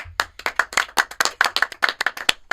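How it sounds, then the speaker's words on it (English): A small group claps steadily for a couple of seconds, quick sharp hand claps close by, with no voices. "We all just kind of started clapping."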